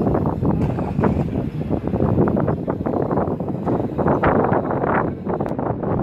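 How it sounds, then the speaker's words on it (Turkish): Strong wind roars and buffets the microphone continuously beside a Hero Duet scooter, a loud, rough rushing noise with no voices. "çok rüzgar var"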